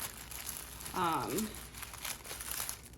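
Tissue paper crinkled once while wrapping handmade products, a brief crisp rustle in the middle of a quiet room.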